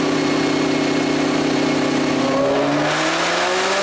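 Supercharged 2021 Shelby GT500 with a ported supercharger and E85 tune screams through a loud dyno pull, engine roaring steadily then pitch rising as it revs up near the end.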